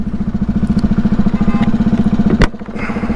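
A BMW G310 GS motorcycle being ridden, its single-cylinder engine throbbing loud and close in a fast steady pulse, with a sharp crackle near the end and a brief dip in the engine note.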